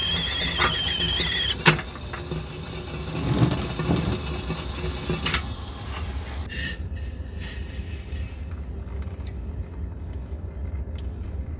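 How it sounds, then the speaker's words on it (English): A steady low hum of a Suburban SUV engine runs throughout, with a few sharp clicks and a brief squeal early on, settling into a constant idle. "I'm gonna turn on the engine so we can let some fresh air circulate"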